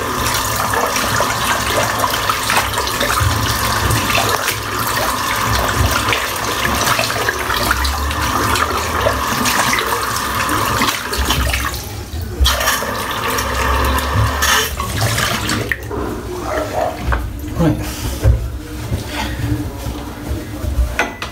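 Tap water runs continuously to rinse soap from a shaving brush, with a steady rushing splash that shifts in tone as the brush moves under the stream, and faint talk underneath.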